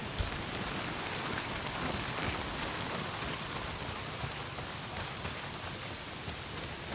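Heavy rain pours in the video game Days Gone, a thick constant wash of drops hitting surfaces that holds steady and moderately loud for the full stretch, with no voices or other sounds rising above it.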